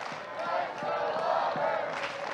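A college baseball crowd at an LSU versus Auburn game rises to its feet, a sustained roar of cheering and yelling that swells and holds, heard at a distance under a commentator's voice.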